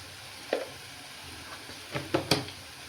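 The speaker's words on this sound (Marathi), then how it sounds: "तर आता ह्याच्यामध्ये आपण सगळे सुके मसाले टाकूया" Dry spices, red chili powder, garam masala, coriander powder and turmeric, go into a sizzling pan for misal, with a low steady sizzle broken by several spoon taps and stirring scrapes.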